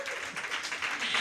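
Fans at a sponsor event with the Prevc brothers cheer and applaud, a burst of clapping and whoops in a room, with some talking mixed in.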